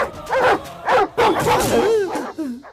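A dog barks and yips in several sharp bursts, with whiny pitch-bending cries between them, close and loud, with some vocal sound mixed in.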